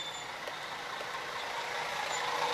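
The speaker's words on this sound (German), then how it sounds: "Der Bus. Wunderbar." A bus passes along a street in Vevčani with a broad, hissing engine and road roar that swells gradually as it nears, heard at moderate distance with no voices.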